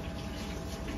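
Running water from a tap during dishwashing gives a brief, steady splashing rush, close and uniform for about a second.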